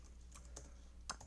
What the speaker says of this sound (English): Sorry, I'm very bad at typing today.